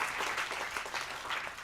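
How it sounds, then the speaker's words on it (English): Steady applause from an audience, a dense patter of clapping that holds evenly throughout without any voices. "Let's give a round of applause to the panel."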